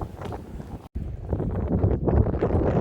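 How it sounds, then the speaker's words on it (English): Wind gusts across the microphone on a walk through Neshaminy State Park, producing a rough, buffeting rush that builds in strength after a brief cutout. "The wind kicks up"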